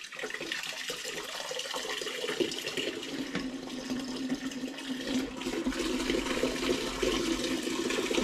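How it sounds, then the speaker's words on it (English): Hop infusion liquid for a rhubarb and Earl Grey saison home brew pours through a sieve into a bucket, giving a steady rushing trickle of liquid that stays close and continuous and grows slightly fuller toward the end. "Next goes my hop infusion, and that's going through a sieve."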